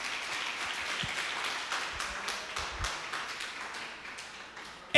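Church congregation applauding during a sermon, a steady wash of many hands clapping at moderate distance, with a few louder nearby claps and thumps.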